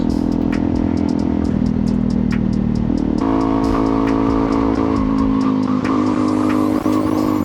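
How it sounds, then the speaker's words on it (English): Steady, heavy wind roar while riding a Honda CRF250L motorcycle, loud and continuous, with the engine droning underneath and shifting pitch partway through. "God, there's so much wind."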